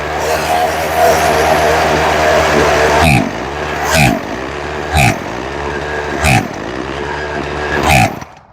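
A Craftsman chainsaw engine idles with a loud, buzzy drone, then is revved sharply four times in quick whining bursts that drop back to idle between each, close and dominant with no talk.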